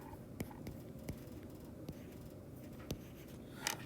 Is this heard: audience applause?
no